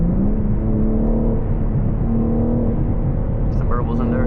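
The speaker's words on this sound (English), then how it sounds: "Some burbles in there." BMW G80 M3 xDrive Competition running with a loud, steady engine drone and low exhaust rumble throughout, with faint crackling burbles near the end.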